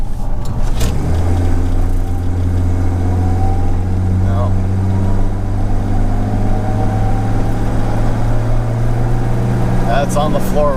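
Jaguar E-type engine, running faulty, accelerating in third gear, a loud steady low drone with a sustained mid hum and a slight rise, heard from inside the car with a voice briefly at the start.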